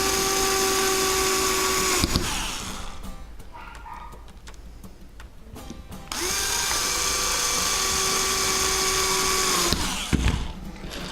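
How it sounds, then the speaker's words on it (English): A power drill drives screws into a QuadLugs Modified H 540 frame kit in two long whirring bursts with a pause between, close and loud. "So I'll get these screws in"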